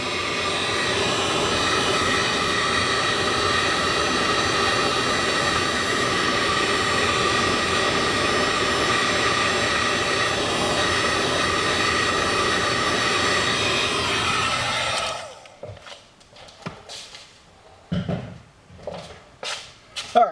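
A heat gun blows with a loud, steady roaring whoosh while shrinking heat-shrink tubing on refrigerator sensor wires, then cuts off, leaving scattered handling clicks and knocks.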